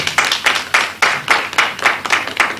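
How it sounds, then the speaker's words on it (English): A small audience claps for the panelists at a fathers' event, several distinct close bursts of clapping in an uneven rhythm, loud and fairly sparse, as if only a handful of people are applauding. "A round of applause for our panelists."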